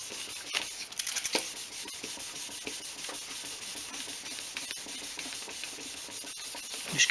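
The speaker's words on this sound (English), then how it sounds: "So flatten them out, buff it back up again." A solid-body Les Paul style guitar's finish being flatted with abrasive and buffed by hand, a faint, steady scratchy rubbing with occasional stronger strokes.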